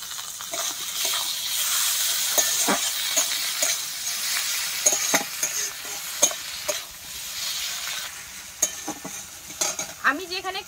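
Chopped tomato goes into a spice masala already fried red in a pan, giving a steady close sizzle and frying hiss with repeated stirring scrapes and a few light utensil clinks, and no voices.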